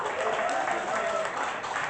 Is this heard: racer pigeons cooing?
no